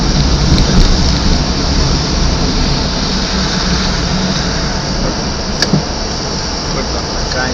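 Heavy afternoon rain falling in city traffic among buses and motorbikes, a loud continuous broadband hiss that stays constant throughout, with a couple of brief sharp clicks near the end.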